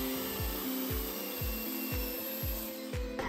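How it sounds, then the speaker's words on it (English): A cordless bandsaw cuts through PVC pipe in a steady rhythm of about six even strokes, each a low grinding pass, over a constant high motor whine. "For my other PVC cuts, I decided to use my cordless bandsaw to see if that would make the process easier."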